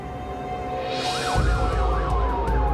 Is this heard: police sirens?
yes